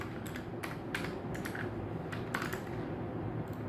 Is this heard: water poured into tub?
no